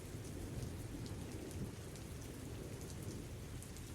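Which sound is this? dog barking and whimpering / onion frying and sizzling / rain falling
rain falling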